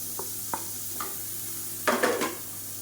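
Finely chopped medium tomato cooks with masala in a pan: a quiet, continuous sizzle broken by a few light spoon taps, then a louder scraping stir.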